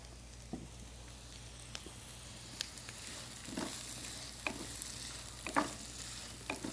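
Onion sautés in a pan with a quiet, steady sizzle, punctuated by occasional soft scrapes and taps of stirring, faint and close with no talking.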